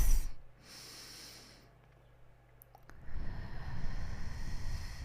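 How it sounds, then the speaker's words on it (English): A person takes a deep breath during a guided breathing meditation: a quick, loud nasal inhale at the start, a quiet pause, then a long, steady airy exhale, close to the microphone. "Take a deep breath."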